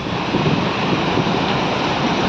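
Cars pushing through deep floodwater on Kolkata's Airport Road at night during heavy rain make a loud, steady rush of splashing and churning water that never lets up.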